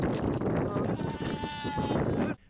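A young goat stranded on a cliff bleats loudly and close, a continuous wavering cry of a couple of seconds that stops abruptly.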